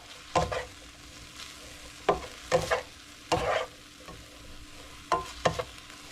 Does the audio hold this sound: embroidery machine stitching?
no